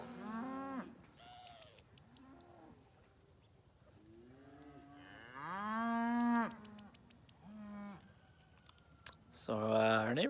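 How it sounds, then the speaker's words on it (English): Cattle brought over by a neighbour moo repeatedly on a farm, several drawn-out calls of varying pitch at close range, with a few clicks and a bird call, and a voice in between. "So our neighbor brought these cows over."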